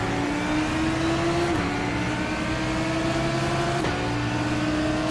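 Lamborghini GT3 race car engine in the iRacing sim, a loud steady droning whine that climbs gradually in pitch, dropping briefly at two gear shifts before rising again.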